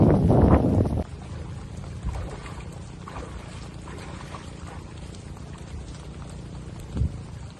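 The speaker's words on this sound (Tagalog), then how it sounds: "Malakas yung ulan." Heavy rain pours steadily beside a river, a dense broadband wash that opens with a louder burst in the first second and then settles into a constant roar, with a brief swell near the end.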